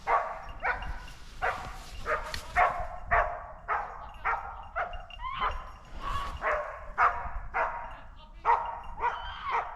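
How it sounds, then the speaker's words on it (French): Several hunting dogs bark and yelp repeatedly in an excited, continuous chorus during a driven wild boar hunt, fairly close, with no talking. "on entend les chiens comme s'ils étaient aux fermes à une dizaine de mètres de nous"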